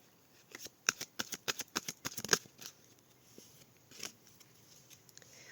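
Tarot cards drawn from a shuffled deck: a quick run of about a dozen crisp, close card flicks and slaps, then a pause and one more soft snap, quiet overall.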